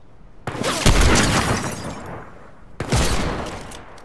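Shotgun fire in Fortnite: two loud, sharp blasts about two seconds apart, each trailing off into a gritty, decaying tail.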